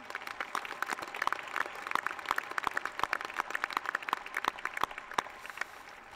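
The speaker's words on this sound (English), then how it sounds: "Please join with me in a round of applause for this truly outstanding achievement" A graduation ceremony audience claps in a steady, moderately distant round of applause, many hands producing sharp overlapping claps throughout.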